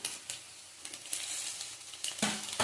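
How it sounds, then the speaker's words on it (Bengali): Nigella seeds sizzle in hot oil as a tempering, a close, crackling hiss with small pops and a sharper burst near the end. "কালো জিরে ফোড়ন দেবো। কালো জিরে দিলাম।"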